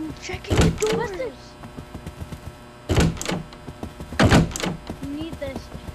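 Doors thud in the noclip VR video game: a few dull knocks at irregular gaps, mixed with people talking.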